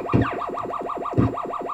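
Warbling UFO flyover from a homebrew Super Nintendo Space Invaders-style game built with PVSneslib, a steady looping siren-like sweep repeating about every 0.2 seconds, with two brief lower thumps of game fire beneath it.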